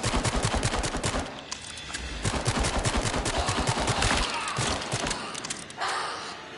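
Gunshots in The Dark Pictures: Switchback VR video game ring out as a rapid, dense volley of cracking shots, steady and loud throughout, easing slightly toward the end.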